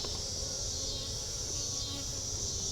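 Honeybees buzzing around an opened beehive during a frame swap, a dense, steady droning swarm hum that stays close and constant throughout, with no voices.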